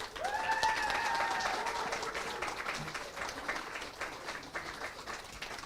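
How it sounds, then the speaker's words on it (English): Audience applause at an open mic reading during a Sheffield festival closing party, a steady wash of clapping that stays fairly faint throughout with a few tonal whistles or cheers early on. "So extra applause for Kate."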